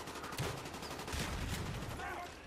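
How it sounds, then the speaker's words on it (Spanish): Gunfire from the China Lake weapon in the Call of Duty Black Ops video game, a quick burst of shots over dense game background noise, fairly quiet overall. "Disparo tres balas de la China Lake."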